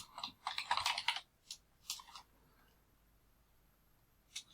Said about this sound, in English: Press the backspace 10 times to delete the word convention.